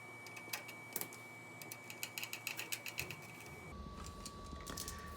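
An insulated Milwaukee screwdriver tightens the side screw of an electrical outlet, giving a run of small, close, quiet clicks and ticks in an uneven rhythm, with a faint steady hum behind.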